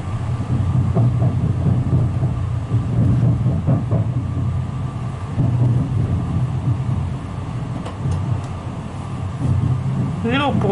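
An SGM Sprinter train passes close by, its steady rumble and rattling wheels filling the clip, with a few clicks and faint speech mixed in.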